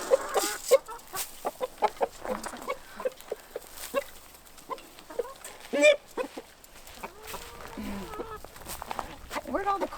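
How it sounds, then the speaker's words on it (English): Chickens and roosters cluck and squawk in bursts at feeding time on a farm in winter, with scratch and corn being put out, while people talk nearby. "We're gonna put some scratch and corn out for the chickens and the roosters here."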